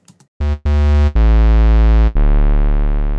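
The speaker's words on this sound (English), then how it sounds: "it's given us 2 waveforms. This is a square wave and then a sine wave." Synthesizer tones hold steady, first a couple of buzzy square-wave notes, then a long rich sustained note, ending on a smoother, deeper sine-wave tone.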